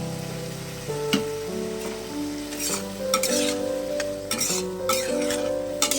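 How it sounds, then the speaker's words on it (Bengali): Egg curry with a spoonful of sour yogurt frying and being stirred in a pan, with a steady close sizzle and repeated scraping stirs of a utensil against the pan, no talk. "এটা এখন 5 মিনিট মতন কষতে থাকবে"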